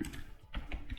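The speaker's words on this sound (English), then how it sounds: "Let me just type sysout" Keystrokes on a computer keyboard, clicking close by in a short, uneven burst of a few quick taps while code is entered in a Java programming lesson.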